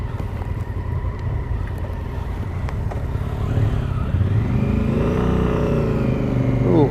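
A big Honda Africa Twin motorcycle engine runs with a loud, steady low rumble that rises in pitch toward the end as it picks up revs, close and continuous.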